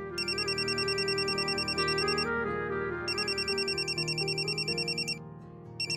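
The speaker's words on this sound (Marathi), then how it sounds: "शालिनी मॅडमचा फोन आहे." A phone ringtone plays loudly, a repeating electronic melody that pauses briefly midway and then resumes.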